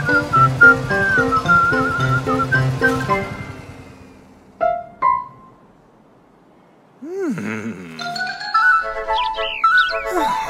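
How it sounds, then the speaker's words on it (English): A cartoon character whistles to call someone back: short bright whistled notes, some rising and falling in pitch, near and fairly loud after an opening stretch of busy music, with a brief quiet gap in the middle. "Pinkerton tried to whistle to call Eli back."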